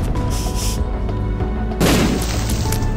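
A huge bomb blows up in The Binding of Isaac, a loud booming blast that swells over continuous game noise and music, then a second heavier burst.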